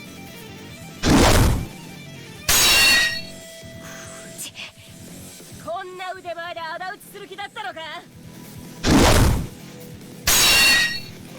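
Sword blows in a video game duel: four loud, sharp clashing strikes in two pairs, with in-game dialogue and grunting voices between them.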